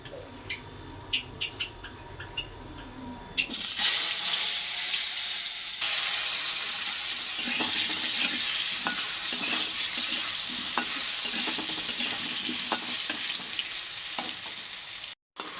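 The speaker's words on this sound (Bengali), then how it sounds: "প্রথমে আলুটাকে ভেজে নিচ্ছি।" Potatoes frying in a pan for a Bengali chicken curry, a steady loud sizzle that begins after a few seconds of quieter kitchen clatter and continues with occasional stirring clicks.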